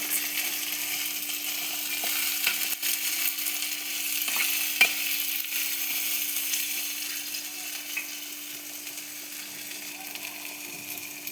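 Peas curry seasoned with rock salt is stirred in a pan, giving a faint sizzle and soft scraping throughout. A steady hum runs underneath and a few light clicks come through. No one speaks.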